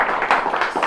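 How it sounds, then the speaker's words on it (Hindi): An audience applauds an election candidate in a short, steady patter of many hands clapping, close and fairly loud, with no talk over it. "आप लोग एक बार इनकी बातों पर ताली बजाइए"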